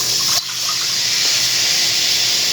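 Water poured from a bowl into a pan for kothimbir vadi batter, a steady close splashing pour that runs alone throughout after a brief clink at the start.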